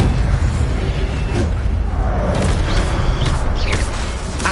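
The Incendio fire spell cast in Hogwarts Legacy, a loud, dense whooshing roar of flame with rumbling bursts that runs steadily throughout, no voices heard.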